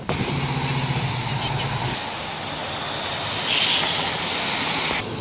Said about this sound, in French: Oh, la Civic!